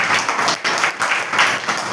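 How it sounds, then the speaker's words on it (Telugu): A church congregation at Sunday worship claps loudly and steadily with dense, continuous applause that fills the room and has no pauses. "గట్టిగా చప్పట్లు కొడదామండి."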